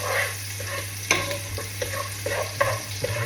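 Tomatoes fry in a pan with a soft, even sizzle over a low steady hum, while a utensil stirs and scrapes in several quick, irregular clacks close by, with no talking.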